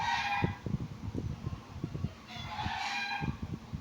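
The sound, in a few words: chickens clucking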